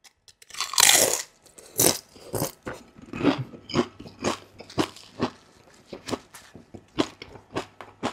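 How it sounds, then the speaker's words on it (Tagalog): Crunchy cheesy nachos being eaten, with a loud crisp first bite followed by a steady series of close crunching chews, spaced about half a second apart. "Satisfying na yung kumain ng nacho."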